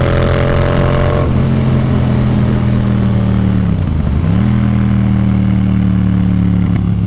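Riding a 2019 Yamaha MT-07 motorcycle, the engine drones loud and near, shifting down early, easing off and dipping, then pulling back up to a steady tone.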